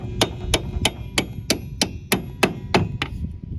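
Metal hammer blows striking a seized bolt on a 1991-2003 Ford Escort rear strut: about eleven sharp, evenly spaced clangs in quick rhythm, close and loud, with no talking.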